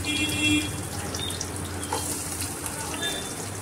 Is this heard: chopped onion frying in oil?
yes